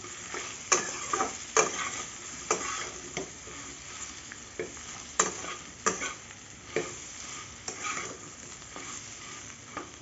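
Mixed vegetables seasoned with salt and turmeric are stirred in a pan, with a soft sizzle underneath and a series of irregular scraping strokes of the spatula, close and fairly quiet.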